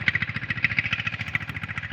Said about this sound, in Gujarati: અને જો એક અમે ટ્રેક્ટર ચાલે છે અહીંયા